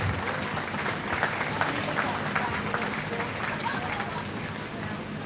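Ringside crowd applauds exhibitors at a 4-H/FFA beef cattle show at a county fair, a steady wash of clapping lasting several seconds with a faint voice underneath.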